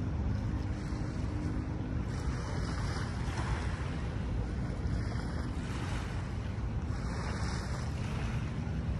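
Soft, steady wash of gentle Manila Bay waves with wind rushing across the microphone, continuous and without voices.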